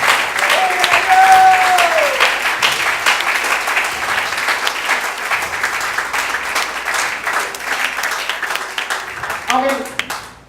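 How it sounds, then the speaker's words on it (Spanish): Loud, sustained applause from a congregation fills a church service, dense clapping throughout with a voice briefly rising over it near the end. "Denle un aplauso fuerte a Cristo."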